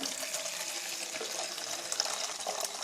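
Hot water pours steadily from a kettle into a container for soaking laundry, a continuous close, bright splashing rush with no speech.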